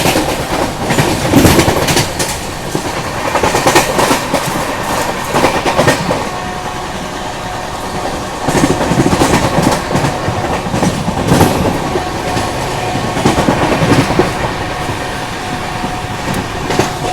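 The West Bengal Sampark Kranti Express (Sealdah to Anand Vihar) overtakes the Shaktipunj Express, heard from on board as loud, continuous rail rumble with rhythmic clickety-clack of wheels over joints and a faint squeal.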